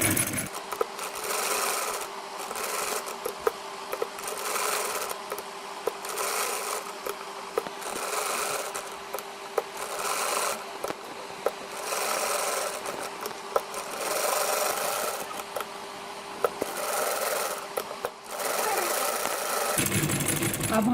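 A sewing machine stitches the neck of a kameez with a fast, steady mechanical rattle that runs close and unbroken for about twenty seconds before stopping near the end.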